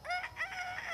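A rooster crows once, clear and fairly close, with a rising, wavering cock-a-doodle-doo call and nothing else around it.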